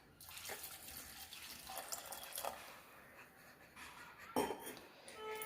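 Water poured into freshly squeezed lemon juice, a soft steady trickling and splashing of liquid, faint and close, with a brief louder splash near the end.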